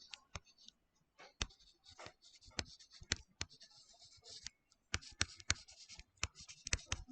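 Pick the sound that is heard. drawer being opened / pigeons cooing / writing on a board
writing on a board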